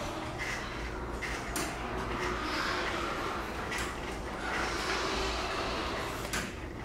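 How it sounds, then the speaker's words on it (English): A Craftsman belt drive garage door opener runs as the door opens, giving a continuous mechanical whirring and rattling with a few clunks, steady and close throughout. "Now when we hit it, it should open the door."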